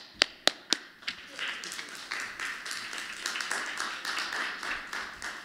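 An audience at a Cyber Security Awareness Day session applauds a speaker, opening with a few sharp separate claps that swell into steady, moderately loud clapping from a crowd.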